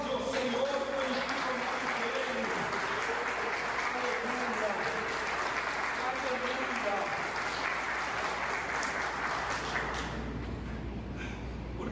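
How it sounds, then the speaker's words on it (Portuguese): A church congregation applauds at an evening worship service, a steady wash of clapping that carries on for about ten seconds under a background of voices and room noise. "aplaude ao Senhor pelo que Ele"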